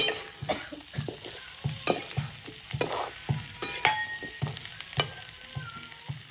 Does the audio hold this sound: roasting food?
yes